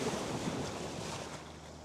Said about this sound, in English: I want to kind of get beyond these waves.